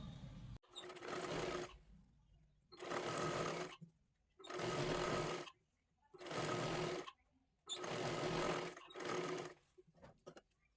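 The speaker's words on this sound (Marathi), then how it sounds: "ही पूर्ण शिलाई मारून घेतली" A sewing machine runs stitching blouse fabric in five steady bursts of a few seconds each, separated by short pauses, close and fairly loud.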